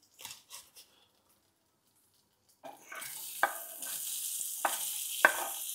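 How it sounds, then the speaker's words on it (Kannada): After a few light clinks and a brief silence, onion and green chilli hit a hot pan and fry with a steady sizzle, punctuated by occasional stirring knocks against the pan. "ಇದು ಚೆನ್ನಾಗಿ ಫ್ರೈ ಆಗಲಿ"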